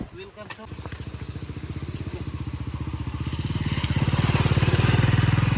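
A motorcycle engine chugs with a rhythmic putter that gradually revs louder and faster, close by, after a short burst of speech at the start.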